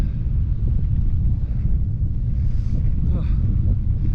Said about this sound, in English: that wind is amazing. It's not that strong, but it's just constant and I'm not used to it.